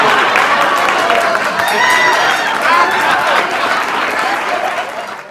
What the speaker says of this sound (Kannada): ಅವರಿಗೆ ಜೋರು ಚಪ್ಪಾಳೆ ಕೊಟ್ಟರೆ ಸುರು ಹೋಗ್ತಾರೆ